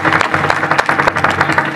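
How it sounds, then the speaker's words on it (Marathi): A kirtan audience claps loudly for the children: brief, close, vigorous applause with quick uneven hand claps. "बालगोपाळसाठी सर्वांनी जोरदार टाळ्या होत्या"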